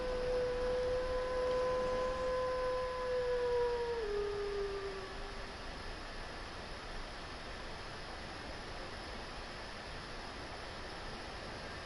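A dog or wolf in the video game Dark Souls lets out one long, clear howl that holds and then dips in pitch before fading, over a steady hiss of ambient noise.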